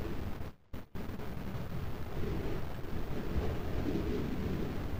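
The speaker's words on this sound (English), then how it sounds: "Kind of windy outside, huh?" Strong, steady wind roars and buffets continuously outside in the horror video game Traffic, with a brief dropout near the start before the gusting rush resumes, loud and broadband throughout.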